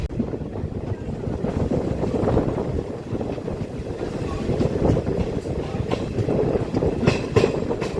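A DEMU local train on the Kacheguda to Karimnagar line rolls along, a steady dense rumble with rattling and clickety-clack from inside the coach, continuous throughout.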